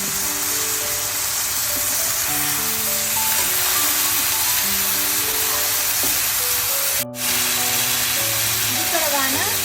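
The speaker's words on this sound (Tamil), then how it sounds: "இந்த நேரத்தில் நான் இந்த கிட்னி பீன்ஸை சேர்க்கிறேன்." Kidney beans go into a pan of tomatoes frying with salt, producing a loud, steady sizzling hiss that briefly cuts out, with a melodic tune playing underneath.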